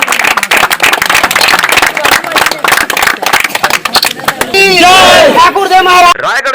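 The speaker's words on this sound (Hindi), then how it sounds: "तालियों के साथ अभिनंदन करें इनका।" A crowd at a kabaddi tournament in Raigarh claps and cheers for the winning local players, a dense run of loud, rapid hand claps and shouts that gives way to raised voices and calls near the end.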